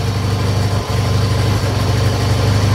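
A 1969 Honda CL160 motorcycle engine idles just after its first start, running a little rich. The idle is a steady, close, loud putter with a continuous low throb and one brief dip.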